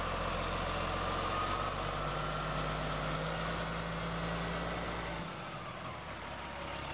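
A road train truck with a 600 horsepower Cat engine, pulling a 140-tonne load, runs with a deep, steady rumble. The low engine note drops and changes character near the end, and no one speaks.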